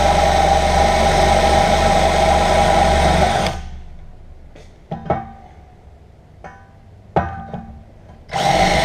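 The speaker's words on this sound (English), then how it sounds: "Just drilling pilot holes" A power drill whines steadily for a few seconds drilling pilot holes in wood, then stops abruptly, followed by a few scattered knocks and short bursts before the drill starts again.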